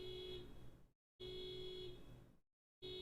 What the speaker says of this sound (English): that car alarm's sure gonna do the trick